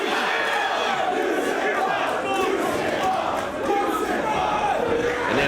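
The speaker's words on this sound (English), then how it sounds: "And this crowd letting Homicide know exactly what they think." A dense, continuous roar from a wrestling crowd at Ring of Honor's Escape From New York event, with spectators shouting, jeering and reacting loudly throughout. The noise stays steady and packed, with many overlapping voices.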